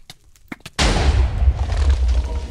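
A bat bomb detonates in modded Minecraft superhero parkour play: after a few faint clicks, a sudden loud, close blast erupts into a sustained, rumbling roar of explosions that rolls on without pause.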